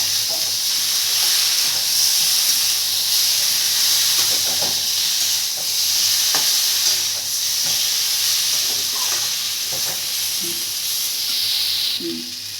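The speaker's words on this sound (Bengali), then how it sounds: "কাঁচা লঙ্কা দিলাম, জিরার গুঁড়ো, ধনের গুঁড়ো, লঙ্কার গুঁড়ো দিয়ে দিলাম, দিয়ে একটু সময় নেড়ে নেব" Green chilies with cumin, coriander and chili powders fry in a pan for a sweet potato dish, giving a steady close hiss and sizzle with a few light scrapes of stirring throughout, no voices.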